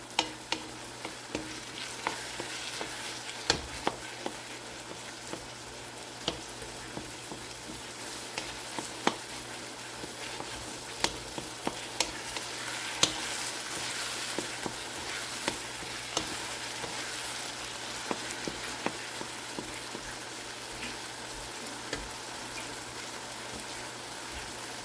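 Bitter gourd (ampalaya) fries in a pan with sautéed tomato, giving a steady soft sizzle broken by frequent scraping and clacking stirs, with no talking.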